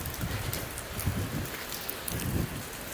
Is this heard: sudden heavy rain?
yes